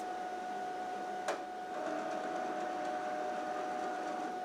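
A steady, faint mechanical whir of a Cricut cutting machine's vacuum fans running, with a single soft click partway through and a constant hum throughout.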